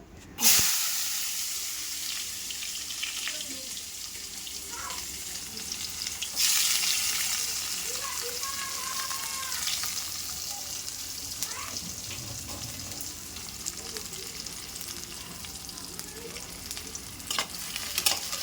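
Fish fries in hot oil while being stirred, giving a constant bright sizzle and hiss with scraping stirs. The sound swells louder partway through and stays close and steady.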